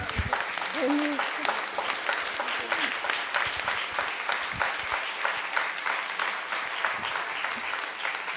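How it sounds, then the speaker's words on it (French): Steady applause from a fashion show audience fills the whole stretch, even and sustained, with a voice briefly audible near the start. "On peut l'applaudir encore"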